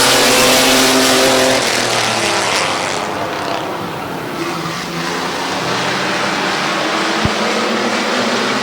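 Mini truck race cars at Midvale Speedway right after the green flag, a loud sustained roar of several engines accelerating past, swelling and easing with no talking.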